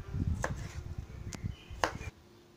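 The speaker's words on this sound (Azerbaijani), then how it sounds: "Sarımsaqları çox balaca doğramıram." Knife cutting garlic cloves into quarters on a board for a bean salad, three sharp separate clicks of the blade over a low rustle, close and fairly quiet.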